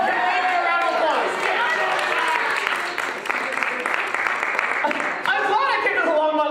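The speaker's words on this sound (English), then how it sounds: "One more round of applause." Applause at a league conference, clapping under cheering voices and lively crowd chatter, with a brief dip midway before picking up again.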